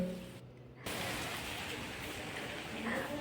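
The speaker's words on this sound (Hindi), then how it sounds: "मौसम देखो कैसा हो गया, बारिश पड़ने लगी है" Rain falling outdoors as a soft, even hiss of drops, faint and continuous after a brief quiet gap near the start.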